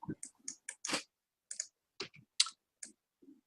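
A computer mouse clicks repeatedly while working in a UV editor, sharp isolated taps in an uneven rhythm, close and quiet against silence.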